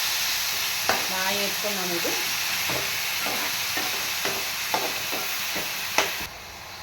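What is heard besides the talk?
onion masala paste frying with fenugreek seeds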